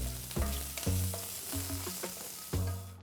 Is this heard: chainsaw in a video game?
no